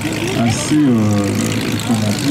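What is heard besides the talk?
SIPA light aircraft flying past in landing configuration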